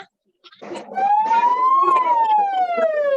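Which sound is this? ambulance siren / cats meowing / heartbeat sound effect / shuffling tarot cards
ambulance siren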